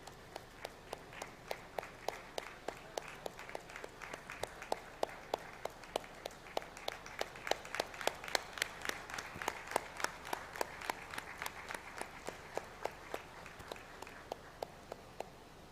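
An audience at an engineering institute's convocation claps as an award is given, a long run of faint, evenly spaced sharp claps that hold a steady rhythm for the whole stretch, heard from a distance without voices.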